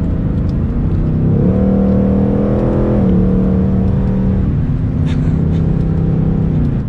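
A Ford Mustang Mach 1 drives on Michelin Pilot Sport Cup 2 tires, its engine note swelling and easing through accelerations under steady road rumble, with a voice talking over it.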